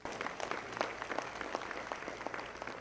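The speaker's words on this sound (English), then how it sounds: "let's give a hand of applause to the drivers of the year 2014" Audience applause for taxi drivers at an awards ball, a steady patter of many hands clapping throughout at moderate loudness with faint voices underneath.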